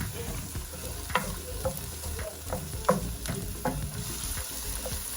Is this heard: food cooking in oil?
yes